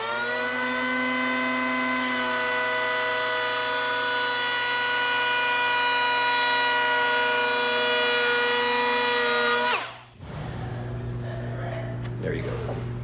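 A battery-powered hand planer runs with a loud, steady high whine as it cuts a chamfer into a wood edge, then stops abruptly, leaving a low hum and brief shuffling.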